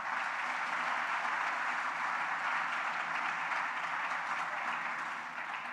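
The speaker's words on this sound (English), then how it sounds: "Please give him a round of applause." Audience at a college cultural evening applauds a professor with steady, dense clapping that holds evenly throughout and fades slightly at the very end.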